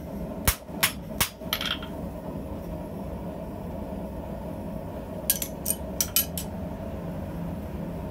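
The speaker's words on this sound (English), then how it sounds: "this slit-to-round punch should help me accomplish that" Hammer blows on a slit-to-round punch during blacksmithing: a quick group of three sharp, loud strikes near the start, a pause with low shop rumble, then a rapid cluster of about five more ringing hits near the end.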